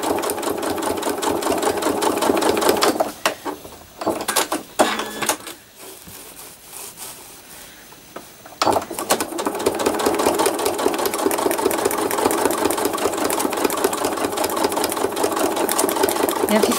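A sewing machine stitches thread art, running in a loud, steady, rapid mechanical whir, pausing briefly in the middle before resuming at full speed.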